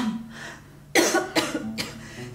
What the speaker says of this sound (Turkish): Şu lanet öksürük. Yine tuttu.